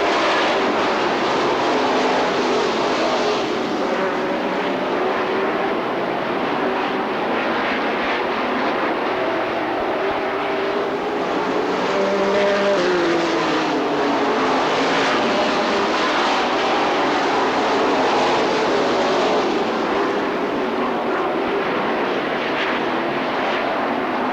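Race cars roar past on a track during a 1999 Bahama Bracket Nationals feature race, a continuous loud engine drone that swells and fades as the pack sweeps by.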